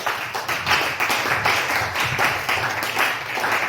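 A church congregation claps and applauds steadily in praise of the Lord, a dense, continuous wash of many hands filling the room for several seconds.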